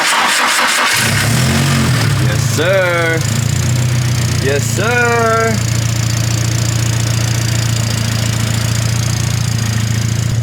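A turbocharged Nissan SR engine cranks over and catches after a long sit, then settles into a steady, loud idle close to the microphone while someone speaks over it.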